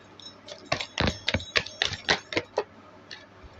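Tarot cards being shuffled by hand, a quick run of crisp, close riffling snaps and flicks in an irregular rhythm, with no voices.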